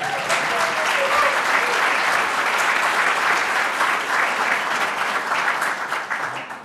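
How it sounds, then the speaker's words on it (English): Steady applause from an audience at an education event fills the whole stretch, a dense wash of many clapping hands at even loudness that thins slightly at the end. "Please give Josh Neal another round of applause."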